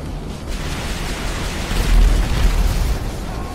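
An A-10 Warthog's barrage in Grand Theft Auto 5 lands as a loud, continuous rumbling roar of blasts, swelling to a heavier deep boom midway before easing slightly.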